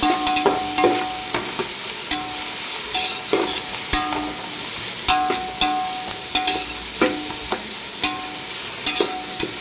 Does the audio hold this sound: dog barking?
no